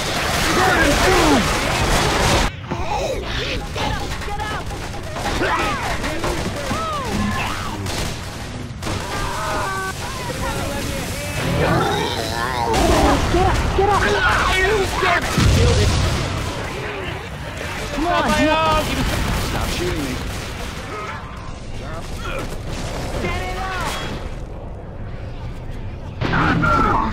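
Continuous gunfire in Left 4 Dead 2 during a zombie fight in The Parish, rapid shots and booms packed densely throughout, loud and close, with several voices shouting and talking over the shooting.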